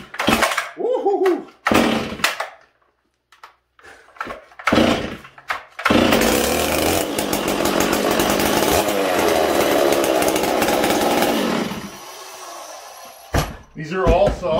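Several chainsaws, including a 461 and an 044 Arctic, are fired up one after another: short pull-start bursts and engine catches, then a long loud full-throttle roar that cuts off, with brief speech in the gaps.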